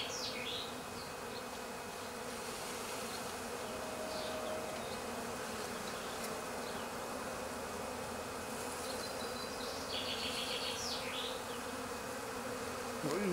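Steady, dense buzzing of a swarm of honeybees settled on a shrub close by, continuous and fairly loud throughout, with no voices.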